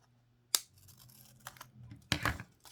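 Scissors cutting tag material in a craft project, a few short snips and crisp rustles, close and quiet with no voices.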